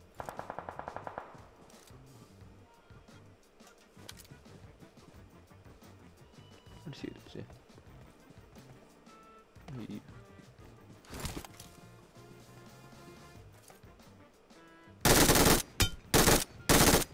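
Gunfire in a mobile battle royale shooter: a short rapid automatic burst at the start, scattered single shots in the middle, then loud close bursts of fire near the end, all running under an ongoing game soundtrack and voice chat.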